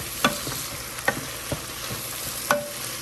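Ground beef being stirred in a hot pan, with a low sizzle beneath several sharp scrapes and knocks of a utensil against the pan at irregular intervals.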